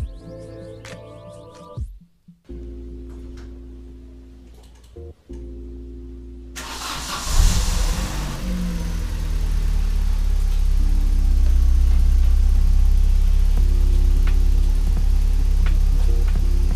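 Engine of a Calibra car cranking and catching at about six seconds, then settling into a steady, loud idle after coolant topping, with some faint clicks and handling noises beforehand.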